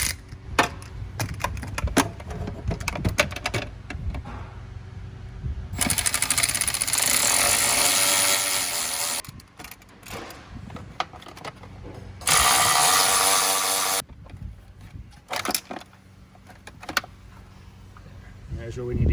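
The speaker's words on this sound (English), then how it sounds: "this is where having an electric socket wrench really comes in handy" An electric socket wrench unbolts fasteners inside a 2019 Sprinter van, giving two loud, sustained whirring ratchet bursts between clattering handling noises, with a voice talking nearby.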